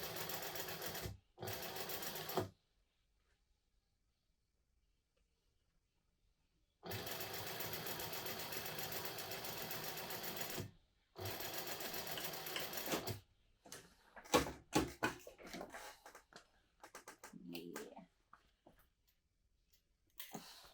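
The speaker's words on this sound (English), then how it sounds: "I'm going to sew all the way down, but then stop at that 3/8" A sewing machine stitches a seam on white fabric in bursts of steady mechanical whirring, stopping and restarting with quiet gaps, then shorter stuttering runs near the end.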